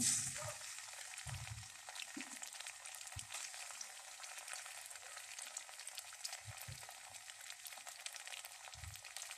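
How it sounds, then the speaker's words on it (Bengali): Onion frying with cardamom and cloves in a pan for a chicken and turnip curry, a constant crackling sizzle broken by a few soft low thumps of stirring. "পেঁয়াজটার সাথে মশলাগুলো আমি একটু ভেজে নিব।"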